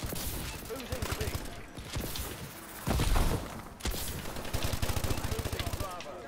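A gunfight in Call of Duty: Advanced Warfare, with bursts of rapid automatic fire repeating close and loud, broken by brief pauses and a heavy blast, under a player's talk.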